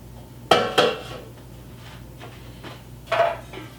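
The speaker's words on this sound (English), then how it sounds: "So I got this great loaf pan." Metal loaf pan handled, with two sharp clanking knocks in quick succession, a few faint scrapes, then another metallic clatter near the end, close and clear.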